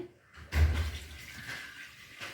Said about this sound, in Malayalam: മൺകുടത്തേക്ക് ഞാൻ വെള്ളം ഒഴിച്ചു കൊടുക്കുവാണ്.